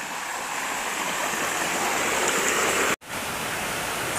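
A hillside stream on the Appalachian Trail in the White Mountains runs high after heavy tropical storm rain, giving a steady, close, broadband rush of flowing water with one abrupt momentary dropout near the end.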